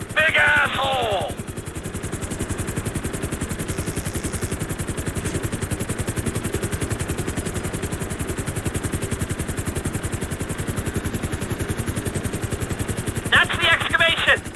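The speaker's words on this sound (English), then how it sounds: "I need you to hold the chopper above it while I take a look." A helicopter hovers in Grand Theft Auto V, its rotor chopping in a fast, steady rhythmic pulse with engine drone, loud and constant, while voices talk briefly at the start and end.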